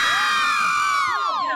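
Fans scream at a free concert for a bus terminal inauguration, a dense layer of high shrieking voices with overlapping whistling pitches that holds steady and then slides downward near the end.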